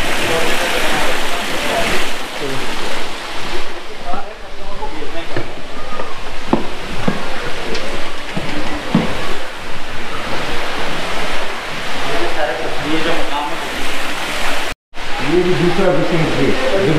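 Cold water flows in a stream in the Cameron Highlands, making a steady, loud, close rushing sound that lasts throughout, roughened by wind buffeting the microphone.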